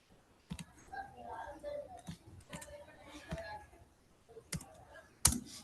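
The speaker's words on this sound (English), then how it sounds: "you just need to type here." Typing on a computer keyboard, scattered soft key clicks and a few sharper taps, heard beneath quiet talk.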